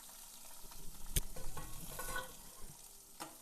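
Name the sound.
frying chopped medium-size onion in tempering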